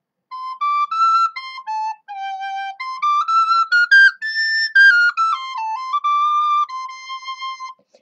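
An Aulos sopranino recorder plays a short melody of about a dozen clear, bright, high notes, stepping up and back down with brief gaps between phrases, close and alone with no talking.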